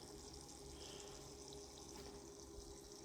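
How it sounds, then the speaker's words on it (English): A water cooling pump runs steadily on a water-cooled Steam Deck, its faint continuous hum carried under a soft, even trickle of bubbling water, with no talking. "It's running. We can see the bubbles."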